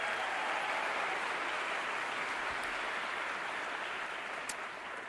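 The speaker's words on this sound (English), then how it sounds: "So please give him a big round of applause." Audience applause at the 2016 Global Entrepreneurship Summit at Stanford, a dense, steady wash of many hands clapping that continues evenly for several seconds, moderately loud and without speech.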